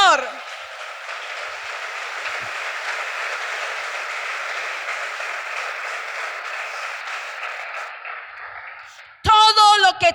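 A church congregation applauds for a sustained stretch, a steady dense wash of clapping that holds and then fades before a voice begins speaking at the very end.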